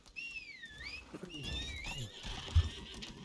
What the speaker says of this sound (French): C'est juste un vieux cheval pour moi.